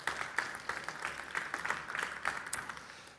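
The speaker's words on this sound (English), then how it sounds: "Big applause for you." Audience applause at a startup pitch event, a moderate crowd clapping with distinct individual claps standing out in an uneven, steady patter, heard alone at middle distance.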